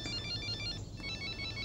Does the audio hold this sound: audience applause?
no